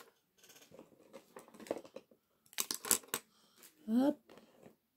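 Pens picked up and handled on a table, giving soft clicks, taps and rattles in quiet bursts, close by and faint.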